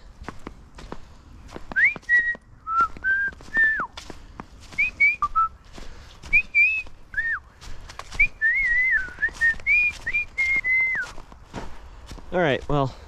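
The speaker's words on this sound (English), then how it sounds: "that was about 2 minutes of whistling" A person whistles alone in the woods, a string of short tuneful phrases and sliding notes with pauses between them, close and clear, with footsteps crunching underneath and a quick falling trill at the end.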